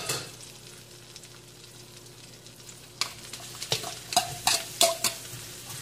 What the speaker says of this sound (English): First, we're going to saute our garlic.